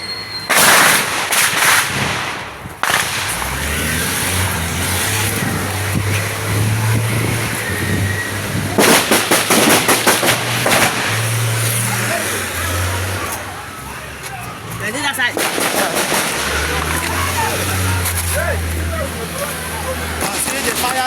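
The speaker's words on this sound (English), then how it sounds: "They are firing us. I say they're firing." Gunfire during a raid on a kidnap den in Orsu LGA, heard as sharp repeated cracks in several bursts near the start, around ten seconds and at fifteen seconds, over a loud continuous rumble with voices talking throughout.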